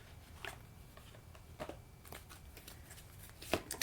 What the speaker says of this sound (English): Okay, I'm going to pull some Soul's Journey cards.